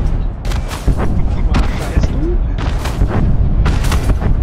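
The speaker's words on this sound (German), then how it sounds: "Boah, hier explodiert schon wieder." Explosions in a space video game burst out as a string of heavy, loud booms with crackling debris, arriving irregularly every half second or so over a constant rumbling background.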